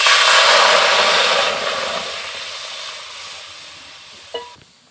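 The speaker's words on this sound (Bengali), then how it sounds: "আমি প্রথমে কড়াইতে সামান্য পরিমাণে একটু জল দিয়ে দেব" Water poured into a hot wok gives a loud, rushing hiss at first, which gradually fades to a softer sizzle, followed near the end by a brief knock, all close-up with no talking.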